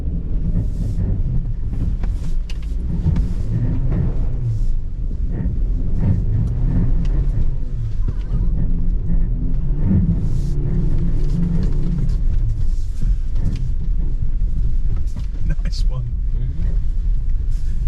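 A 2023 Suzuki SX4 S-Cross full hybrid climbing a slippery hill: the engine rumbles steadily and strains continuously throughout, with wind buffeting the microphone and a low road drone underneath.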